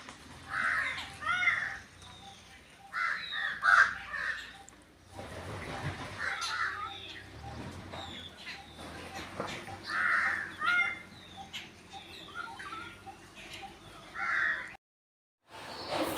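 Crows in the Gir forest near a temple caw repeatedly in short bursts, moderately close, with brief quiet gaps between the calls.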